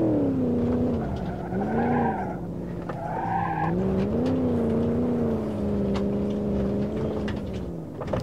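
A lime green Gavril Barstow 291 V8 racing laps in BeamNG.drive, its engine droning steadily and loud throughout, with pitch rising and falling through gear changes and corners and a brief tire squeal.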